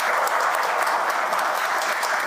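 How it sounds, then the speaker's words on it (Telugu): An audience applauds loudly at a charitable free-meal distribution event held by a trust clinic and Lions Club, with dense, steady clapping from many hands throughout the short burst. "మనం గట్టిగా చప్పట్లతో అభినందనలు తెలియజేయాలి"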